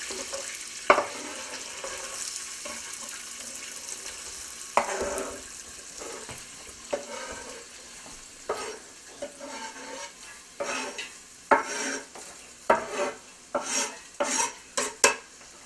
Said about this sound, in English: I'm going to saute all these chopped vegetables